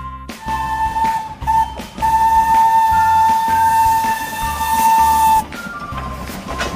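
A toy Thomas train gives a steady, high whistle-like tone that holds for several seconds, with brief breaks, over a low rumbling hum. It is fairly loud and close.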